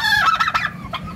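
Large domestic turkey calling at close range, a short burst of warbling, gobbling notes lasting about a second, fairly loud against quiet surroundings.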